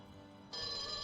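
A telephone rings: a steady, bright electronic trill starts halfway through and holds at moderate loudness over a faint hum, with no talking.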